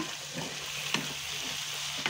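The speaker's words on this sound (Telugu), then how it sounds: "కలిపేసేస్తున్నా." Potato curry with spice powder sizzles quietly in a hot pan while a spoon scrapes and stirs, with a couple of sharp clinks against the metal.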